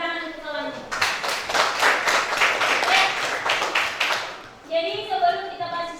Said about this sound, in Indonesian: tepuk tangan untuk kawan